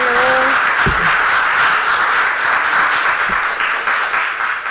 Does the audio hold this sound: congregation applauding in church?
yes